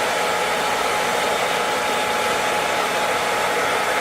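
A blow dryer runs continuously, a loud, even airy whoosh held at close range with no pauses and no voices over it, used during an LED glow light kit installation on a 2007 Infiniti G35x.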